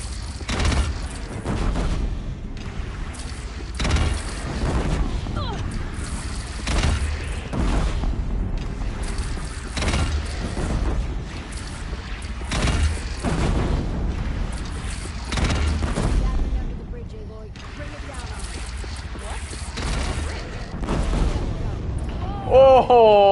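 Cannon fire and explosions boom repeatedly during a battle in Horizon Zero Dawn, a string of heavy impacts and bursts mixed with shouting voices throughout.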